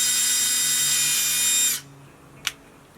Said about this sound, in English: First thing I'm going to do is drill the hole.